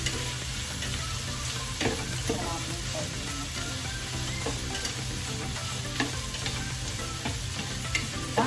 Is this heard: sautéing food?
yes